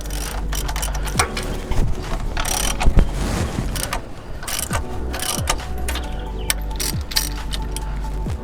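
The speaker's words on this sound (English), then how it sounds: "you'll need a 7/8 socket, or a wrench can be used as well, and we are going to loosen the 4 bolts holding our pump to the pump plate" Ratchet with a 7/8 socket loosening the bolts on a pump plate of a jetter, with rapid clicking pawl bursts and turning strokes repeated close up and loud, no voices.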